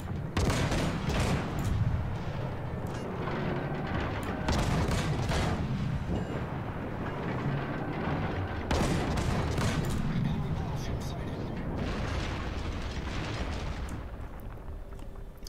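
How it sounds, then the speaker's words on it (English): Warship guns in World of Warships fire in repeated heavy booming salvos over about fifteen seconds, loud and dense, with rumbling explosions layered together. "Let's use our guns."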